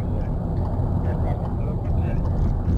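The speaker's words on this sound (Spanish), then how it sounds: "Se oye como el sonido de carretera ahí" Steady, loud road noise inside a moving car, a continuous low rumble that fills the whole clip with no breaks.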